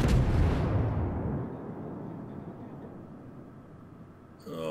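Main battery guns of a Russian tier-3 battleship, the Knyaz Suvorov, fire in World of Warships as one loud, booming salvo that fades into a long rumbling tail, with another blast starting right at the end.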